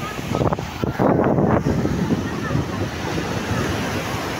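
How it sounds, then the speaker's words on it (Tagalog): Rough, roaring surf crashes in a heavy burst near the start, then settles into a steady wash of water and wind rumble. "Yan na, malakas na yung alon."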